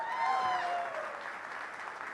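Audience applause at a stand-up comedy show at a literature festival in Bengaluru, a steady mid-level wash of clapping across the room, with a brief voice and whistle-like tones near the start.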